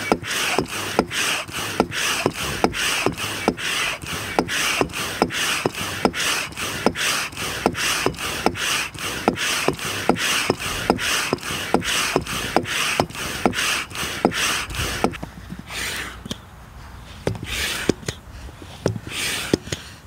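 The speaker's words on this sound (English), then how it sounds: "now I'm going to time it, see how long it takes me to pump it up" A dual-action hand pump inflates a Fatstick Pure Art inflatable paddle board, giving a steady rhythmic series of whooshing, rasping strokes that slow slightly near the end.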